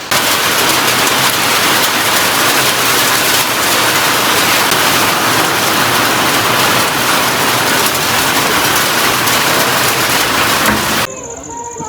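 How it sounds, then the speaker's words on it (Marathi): Steady, loud evening rain pours down at a mountain resort in Malshej without a break for about eleven seconds, a dense wash of hiss, then cuts off abruptly near the end. "आहे ना पाऊस आला इथे बघा."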